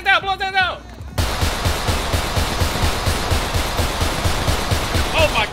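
Rapid automatic gunfire rattles in a GTA roleplay shootout, a sustained stream of evenly spaced shots following a burst of excited shouting, with voices rising again at the end.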